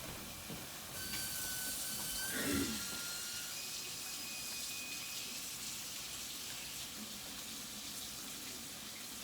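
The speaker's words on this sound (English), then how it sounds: "You'll have to listen to my loud faucet." A faucet runs loudly and continuously, a steady broad rush of water with a few brief squeaks and clunks early on.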